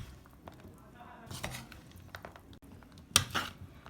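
Chana chaat with green chili and chaat masala being mixed in a bowl, giving soft clinks and scrapes of a utensil against the dish, with one sharper clink near the end.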